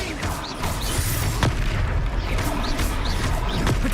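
The Confringo explosion spell in Hogwarts Legacy goes off in heavy booming bursts, layered with sharp magical whooshes and cracks in the thick noise of a chaotic battle.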